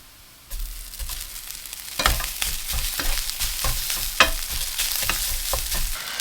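Cold leftover rice with garlic stir-fried in a hot pan for sinigang garlic fried rice, a steady close sizzle broken by repeated scraping stirs and clanks of a spatula.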